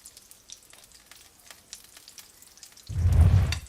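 Butter in a frying pan gives a sudden loud sizzle near the end, after a few seconds of faint ticks and crackles. The burst of frying is close and with no talking.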